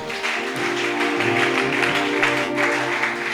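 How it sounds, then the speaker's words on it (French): A church congregation applauds and cheers for God during a prophetic service, a steady wash of clapping and voices that stays loud and unbroken for the whole few seconds. "Est-ce que tu peux acclamer pour ton Dieu?"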